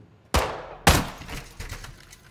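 Gunfire in Call of Duty Modern Warfare 2 on a hard campaign mission: two loud, sharp shots about half a second apart, each trailing into a rumbling decay, with softer reports after.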